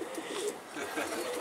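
Pigeon, a large fancy breed, cooing softly while held in hand outdoors, a low steady murmur running through the clip with faint background noise.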